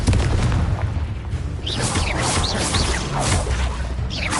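Confringo blasting curse from Harry Potter going off in rapid spell combat, booming explosive hits and whooshing bursts repeating over a dense, noisy battle bed.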